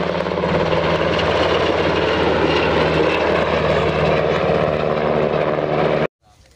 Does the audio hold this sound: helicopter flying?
yes